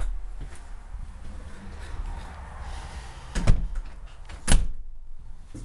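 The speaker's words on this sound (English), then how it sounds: "Patio door." A sliding patio door on a 2014 39-foot Retreat travel trailer rolls along its track, with two sharp thumps as it stops, against low background rumble.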